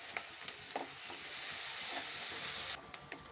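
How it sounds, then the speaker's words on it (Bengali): Onions fry with cloves and garam masala in a pan, a soft, even sizzle with light stirring taps that eases in intensity near the end. "এখন আমি দিয়ে নিব বেশ কিছুটা পেঁয়াজ। এটা আমি লাল লাল করে ভেজে নেব।"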